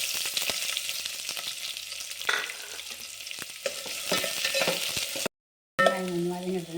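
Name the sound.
onions frying in oil with curry leaves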